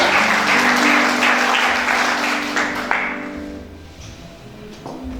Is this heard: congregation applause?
yes